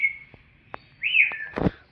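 Bird calls in a zoo aviary at Sakkarbaug Zoo, Junagadh, where parrots are kept: a sustained whistle, a few short chirps, then a louder rising squawk and a harsh burst near the end.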